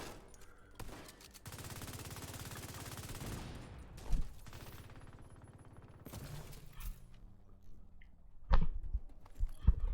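Rapid automatic gunfire from a first-person shooter going for headshots, sustained bursts followed by scattered single shots and impacts, fairly loud and close with no talking.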